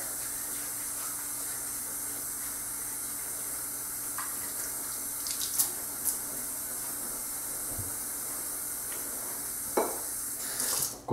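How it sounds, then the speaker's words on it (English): Water runs steadily from a tap in a continuous, close hiss, with a few faint clinks and splashes near the end. "Go ahead and add just a little bit of water to the face,"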